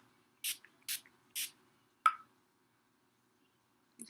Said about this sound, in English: So I'm going to just spray a little bit on my face.